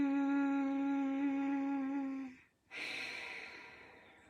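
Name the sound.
Ujjayi breathing, deep inhale through nostrils with throat hum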